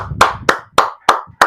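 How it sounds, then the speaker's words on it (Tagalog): Five sharp, evenly spaced hand claps ring out close and loud, a slow deliberate rhythm with brief silences between them, while someone murmurs faintly underneath. "Palakpak naman."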